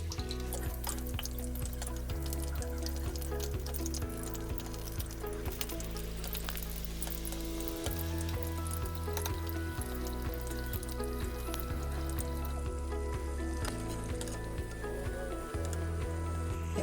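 Palm fruit pulp vadas frying in hot oil, a steady soft sizzle that runs throughout at low volume, with no talking over it.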